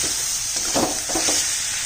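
Tomato goes into chicken frying in a pan, with a steady bright sizzle and a few soft stirring scrapes and bursts, close by and without talk.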